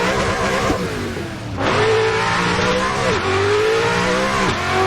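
A race car engine in the racing game Assetto Corsa revs hard and shifts through gears, the pitch climbing and dropping repeatedly, loud and close.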